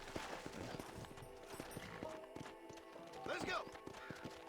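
In a Red Dead Redemption game, a horse's hooves clip-clop and gallop in the scene while someone talks over it, with a short neigh partway through.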